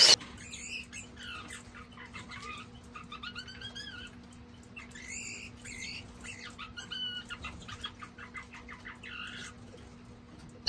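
Bullfinch warbling in a cold aviary, a soft run of short varied chirps and piping notes repeating over a low steady hum, fairly faint and close with no talk.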